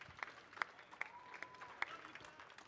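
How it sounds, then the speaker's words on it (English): A small crowd applauds in a cutscene of the Gran Turismo 6 racing game: faint, scattered claps with a few sharper slaps, quiet and thin, with speech around them. "Give him a round of applause."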